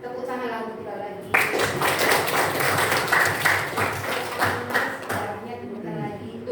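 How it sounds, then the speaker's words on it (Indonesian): A classroom group clapping during a physics lesson, a burst of many hands starting abruptly and continuing for about four seconds before fading, fairly close and loud, with voices heard before and under it. "Tepuk tangan lah untuk kita lagi."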